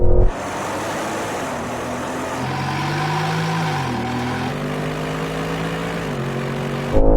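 At a drag race start, a Ferrari Purosangue, Lamborghini Urus SE, Porsche Cayenne Turbo and Audi RS Q8 Performance launch with a loud, sustained engine roar that climbs in pitch through gear changes before cutting off.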